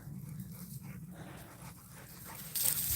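Dogs pant and shuffle about outdoors on a bright, sunny day, a soft, steady breathy texture at close range, fairly quiet, with no talking.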